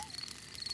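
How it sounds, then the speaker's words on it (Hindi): Cartoon crickets chirp at night at a countryside campfire spot, a faint high thin trill that comes and goes in two short bursts over quiet background hiss. "ये कीड़ों की चींची आवाज है।"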